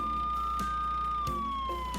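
An ambulance siren sound effect wails in a single sustained, gently falling tone, loud and close throughout, with no talking.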